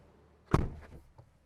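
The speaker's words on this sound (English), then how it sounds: "Let's close the door." Door of a Zeekr 7X RWD Long Range car shut once from inside, a single close, solid thud followed by a brief soft rattle and then quiet.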